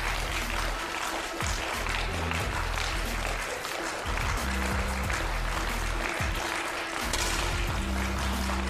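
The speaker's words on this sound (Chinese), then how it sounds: "现场的观众开始用掌声去带动情绪。" A crowd keeps up steady applause in an indoor arena before a 10m air rifle mixed team shooting final, forming a dense, continuous wash of clapping that swells and dips, with a faint voice beneath.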